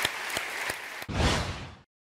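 Studio audience of a Turkish comedy talk show applauding, a broad wash of clapping that swells then cuts off abruptly into silence, preceded by a few sharp transient hits.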